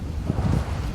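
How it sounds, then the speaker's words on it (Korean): Wind buffets a fishing boat at sea in rough weather, with a heavy, rumbling wash of waves and low-frequency roar filling a brief moment, loud and close to the microphone. "아침부터 바다 날씨가 심상치 않습니다. 거친 파도에 조업이 쉽지 않아 보이는데요."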